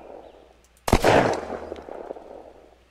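A single loud, close shotgun blast from Unturned, fired at zombies, cracks sharply and leaves a brief rumbling tail, with quieter scattered game noise before and after.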